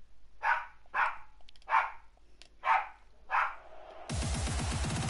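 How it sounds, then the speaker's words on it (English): A dog barks five times at a steady pace in the background of a Rocket League online match, each bark sharp and clear, before louder game sound takes over. "Sorry if you can hear my dog in the background."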